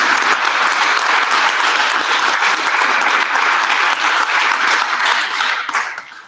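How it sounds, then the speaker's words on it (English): A hackathon crowd gives itself a round of applause, loud close clapping filling about six seconds before fading out. "let's give yourselves a big round of applause"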